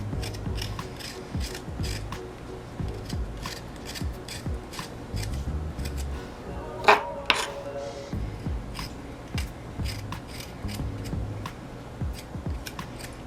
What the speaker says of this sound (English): now I'm just going to peel my ginger root